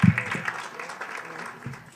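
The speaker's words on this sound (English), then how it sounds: "Please give her a warm round of applause." Audience applause at a poetry reading event at Madison Square Garden, a short burst of clapping from the crowd that starts strong and tapers off, with a bit of talk underneath.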